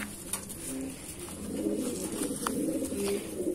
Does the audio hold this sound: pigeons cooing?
yes